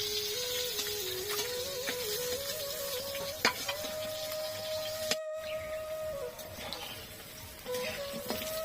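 Lightly fried chicken pieces are lifted from a frying pan while the oil keeps up a constant loud sizzle, a faint tonal whine running beneath it and occasional clinks of the utensil.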